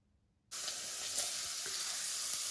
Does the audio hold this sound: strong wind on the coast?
no